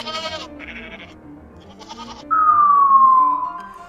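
Goat bleating sound effects, several short wavering bleats over a soft music bed, followed by a long, falling whistle-like tone.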